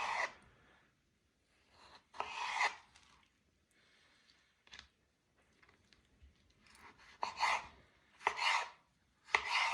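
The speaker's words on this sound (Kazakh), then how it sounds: "Қиярымызды осынша ұзынша турап аламыз." Cucumbers being cut into long strips for a salad, a few close, short bursts of knife-on-board cutting separated by quiet gaps, irregular in rhythm and with no speech.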